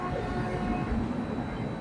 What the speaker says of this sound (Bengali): আর এখানে দাঁড়িয়ে আছে ট্রেন সবুজ সংকেতের অপেক্ষায় প্ল্যাটফর্মে ঢোকার জন্য